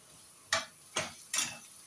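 Potatoes seasoned with ground black pepper and salt are stirred in a pan, giving three distinct scraping clatters of utensil against metal, evenly spaced and close, with a faint sizzle underneath.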